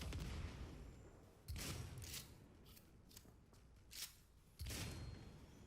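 Bomb explosions in the video game Cyberpunk 2077, out on the streets of Night City: heavy booming blasts burst out of a dense, noisy game soundscape, two big ones plus smaller cracking hits between them.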